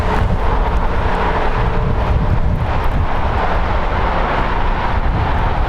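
A one-year-old Volaris Airbus A320neo jet at LAX, flight 7092 from Guatemala City, gives a steady broadband roar that stays loud and constant throughout, with wind buffeting the microphone.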